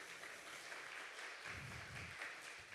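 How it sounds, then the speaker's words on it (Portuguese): A church congregation claps together in praise, a steady wash of many hands heard quietly and at a distance for a few seconds, with no voices over it. "Vamos dar uma salva de palmas para Jesus?"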